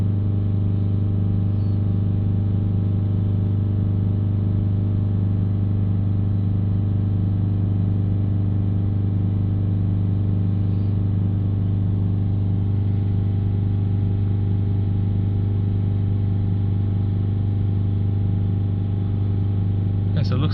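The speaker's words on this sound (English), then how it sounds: "We've still got the revs at 3000. You can hear different changes of tone in the engine." A Subaru Outback 2.0 boxer diesel engine with a blocked DPF drones, held at 3000 revs, a loud constant hum with strong low harmonics and slight shifts in tone, close by and continuous.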